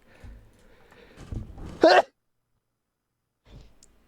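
A man sneezes once, a short sharp burst after a brief quiet inhale, close and moderately loud, during a Minecraft stream, followed by silence.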